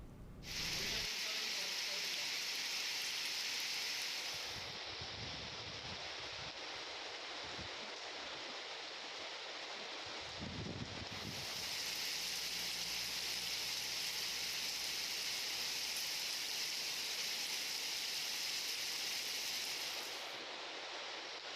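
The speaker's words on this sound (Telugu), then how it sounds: "ఎల్బీ నగర్, నాగోల్, ఉప్పల్, సికింద్రాబాద్, కుకట్పల్లి, మాదాపూర్, గచ్చిబౌలి, పంజాగుట్ట తదితర ప్రాంతాల్లో వర్షం కురుస్తోంది." Heavy rain falling over Hyderabad streets makes a dense, continuous hiss that lasts throughout, with occasional low rumbles underneath.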